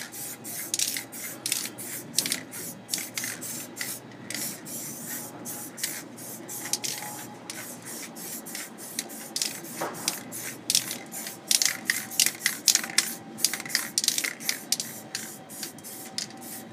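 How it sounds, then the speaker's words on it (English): Repeated short hissing bursts of blue and orange spray paint cans spraying in quick, uneven pulses, close up and fairly loud, with faint rubbing between. "I have some blue and I have some orange spray paint here. So let's hit it with both"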